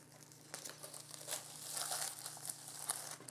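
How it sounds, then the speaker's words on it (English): Tape comes away from a plastic vinyl record outer sleeve with a close, quiet run of crinkling and peeling, the film rustling in short irregular bursts. "Slide it inside, remove the tape that covers the resealable tape, and then store the record"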